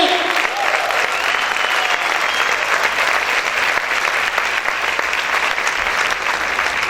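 Loud, continuous applause from a church congregation fills the space without a break, with a few voices faintly audible under the clapping.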